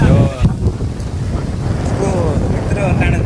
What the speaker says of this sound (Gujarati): પવન ફૂલ છે જો અત્યારે.